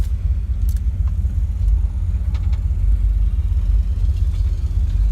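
Restored 1978 Pontiac Firebird cruising on a shakedown run, with a low rolling engine drone and road rumble held steady and close, a few faint clicks and rattles on top, no voices.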